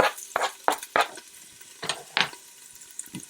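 Onion and garlic sizzling in a little olive oil in a pan, stirred with a run of sharp scraping strokes at an irregular pace, close and moderately loud, no voices.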